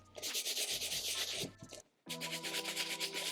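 A medium-bristle brush scrubs the mesh uppers of Dior B22 sneakers in quick, close back-and-forth strokes, with a brief pause before the scrubbing resumes.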